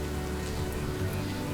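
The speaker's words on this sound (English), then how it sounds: "rain was on its way" Steady rain falls in the Ujung Kulon park in Indonesia, a dense, even hiss of drops hitting surfaces with no voices.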